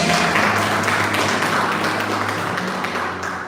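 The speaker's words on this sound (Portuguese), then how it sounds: "Uma salva de palmas para o Paulo Silva." A church congregation at a preaching service gives a round of applause for Paulo Silva, a dense and loud wash of clapping that holds steady before easing slightly toward the end.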